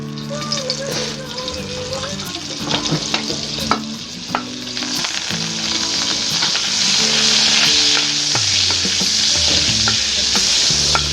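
Margarine sizzles loudly in a hot wok with a little oil, a bright continuous frying hiss broken by scattered scrapes and stirring knocks.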